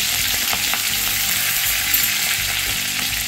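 Ginger-garlic paste and seven or eight curry leaves sizzle steadily in hot oil while broad beans are being cooked. The loud, dense hiss is close by and carries a few soft stirring taps, with no talking.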